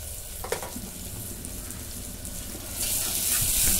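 A ground masala paste of garlic, ginger, coriander, onion and spices sautéing in a pan, a steady close sizzle that grows louder and hissier toward the end, with a few faint stirring knocks.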